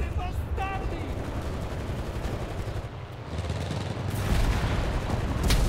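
Gunfire in the World War II video game Enlisted, dense overlapping shots and rattling automatic fire with heavier blasts building toward the end, loud and continuous.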